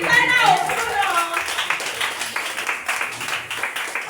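A church congregation at a revival service in Porto-Novo claps and cheers in praise, a dense continuous wash of hands and voices that stays loud throughout, with a leader's voice calling out over it.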